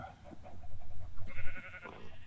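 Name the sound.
sheep bleating in a farming video game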